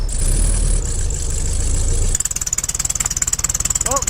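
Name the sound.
VW Beetle engine idling after winter cold start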